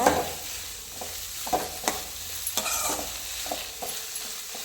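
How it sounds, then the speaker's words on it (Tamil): Bitter gourd sautéing in sesame oil in a pan, with soft continuous sizzling under a series of light scraping stirs and clinks from a utensil, close and moderate in level. "அந்த பச்சை வாசனை போகிற வரைக்கும் நல்லா பாகக்காவை வதக்கிக்கணும் நல்லெண்ணெயில்."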